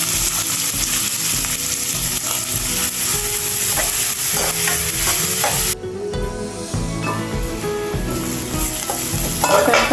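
Chopped onion and green chili pieces sizzle loudly in hot oil in a kadai, with steady crackling and occasional stirring scrapes throughout, briefly dipping midway before resuming.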